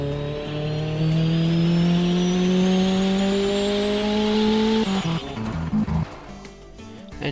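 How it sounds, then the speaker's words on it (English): Simulated car engine with a turbo spooling up in the game Automation, a steady rising whine and engine tone climbing in pitch for several seconds, then breaking into choppy, stuttering bursts. "Hear the turbo kicking in."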